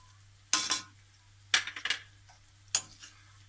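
A spoon stirs spices such as crushed red chilli, turmeric, salt, nigella seeds and dried pomegranate seed into bitter gourd and onion curry in a pan, giving three separate scraping, clattering strokes against the pan over a quiet background hum.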